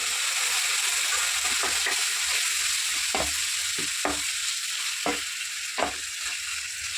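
Chicken, one kilogram washed and dusted with turmeric, fries in a hot pan with a steady loud sizzle, broken by several sharp scraping strokes of a spoon stirring it around.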